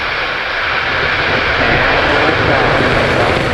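Falcon 9 rocket engines igniting at launch for the Korea Project 425 mission, a loud, steady broadband roar filling the whole clip, with a launch commentator's voice over it.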